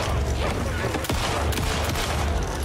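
Rapid gunfire from a shooter video game, a dense sustained fusillade of shots testing whether bullets hurt a creature, loud and continuous throughout.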